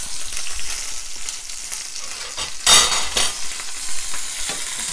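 Chicken breast fries loudly in a pan with butter, thyme and garlic, a dense close sizzle that surges into a bright burst of spattering midway and then settles back to a steady crackle.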